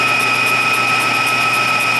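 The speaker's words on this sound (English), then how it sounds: "Let's go ahead and do that on the mill." A milling machine shaves down a ladder-pattern Damascus steel billet to its final thickness, producing a steady, loud, close mechanical whine with a constant high ringing tone and no talk.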